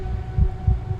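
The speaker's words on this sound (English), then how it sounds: "what sounds like a heart beating over and over again." Heartbeat sound effect from a sci-fi Dungeons & Dragons game session, deep low thumps repeating at a steady pulse over a faint background hum.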